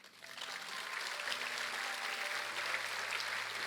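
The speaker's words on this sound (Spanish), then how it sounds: "Dale un aplauso a Él." Church congregation applauding during a sermon on revival, a faint, steady wash of clapping with a low sustained organ or keyboard chord beneath it.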